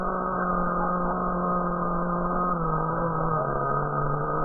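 A nitro RC model car engine runs steadily with a high buzzing whine and slight pitch wavers, moderately loud and alone without talk.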